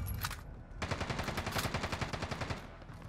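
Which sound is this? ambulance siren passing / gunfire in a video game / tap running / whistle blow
gunfire in a video game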